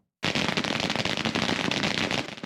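New Year's Day fireworks in Pearl City, Oahu, Hawaii: after a moment of silence, dense firecracker strings burst into loud, rapid, continuous crackling and popping that carries on without pause.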